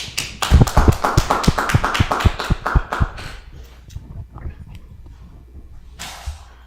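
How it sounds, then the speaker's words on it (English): A quick run of sharp, closely spaced claps from people at a scripture study gathering. It is loud for about three seconds, then thins out and fades, with a brief extra burst near the end. "Clap it up for the brother, man."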